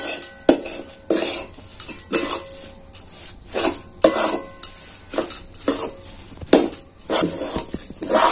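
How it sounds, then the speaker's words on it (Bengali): A spoon scraping and stirring ghee through hot jaggery and puffed rice in a pan, with about a dozen rhythmic scrapes and clanks against the metal that come loud and close at roughly even intervals. "খুব ভালো করে নেড়ে চেড়ে ঘিটা মিশিয়ে নেব।"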